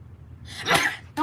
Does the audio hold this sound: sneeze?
yes